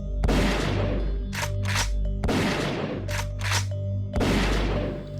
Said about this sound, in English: Miguel walked towards the hole and began to shoot.